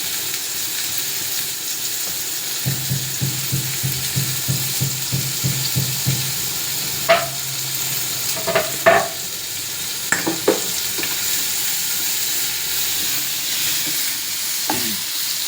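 Onions fry for egg biryani in a close, steady sizzle, with a run of quick rhythmic stirring scrapes early on and a few sharper clinks later. No one speaks.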